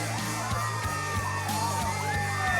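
A crowd cheers, whoops and yells together, with loud, sustained enthusiasm and rhythmic thumps underneath, likely cowbells ringing through the noise.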